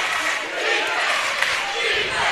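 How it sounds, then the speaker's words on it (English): A loud crowd cheering and yelling at a boys and girls district tournament basketball semifinal, a dense, continuous roar of voices filling the gym with a few sharper shouts. "you got a really, really loud crowd here"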